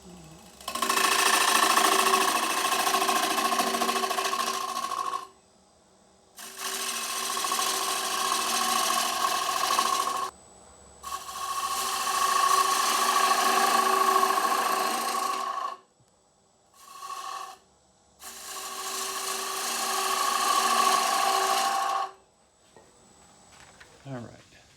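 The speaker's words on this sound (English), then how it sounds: "Just a simple push cut." A woodturning lathe taking push cuts on the rim of a mulberry wood bowl, loud steady whirring and cutting bursts of several seconds each, separated by short quiet pauses, with one brief burst in the middle.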